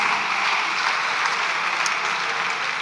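Vox deputies applaud in the Spanish parliament chamber, a dense, steady burst of many hands clapping that fills the whole stretch at even loudness, with no voices standing out.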